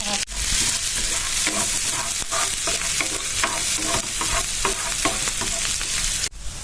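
Garlic and onion sauté in hot oil in a pan for a Filipino dish, a steady loud sizzle broken by repeated scraping stirs of the spatula, with a brief sharp clatter near the start and another near the end.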